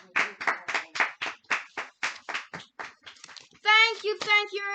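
Hands clap in a quick, close series of about a dozen sharp claps, followed by a voice speaking briefly at the end.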